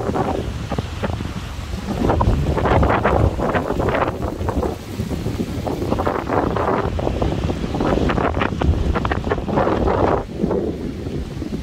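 Heavy foehn storm wind roars and gusts steadily against the microphone, a loud, buffeting rush that surges and eases in waves throughout with no voices.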